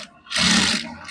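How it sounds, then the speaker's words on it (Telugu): A sewing machine runs a short stitching burst through cloth, a quick whirring rattle that rises, holds for about half a second and fades. "దీన్ని వచ్చేసి ఇప్పుడు మనం వెనుక సైడ్ దీన్ని హాఫ్ వరకు స్టిచ్ చేసుకోవాలి"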